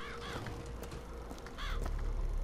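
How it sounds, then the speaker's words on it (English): Crows caw in the video game Bioshock Infinite: a few harsh, rasping calls at moderate distance, repeated in short bursts over a steady low background rumble. "I think these are crows as well."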